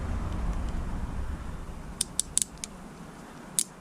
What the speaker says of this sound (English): Oh, well, it made ratchet noises, so that's reassuring.